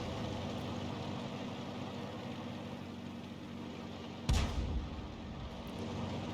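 Enemy artillery fire in the World of Tanks video game: a single sharp, loud boom with a short rumbling decay cuts in partway through over a steady, continuous tank-engine idle drone.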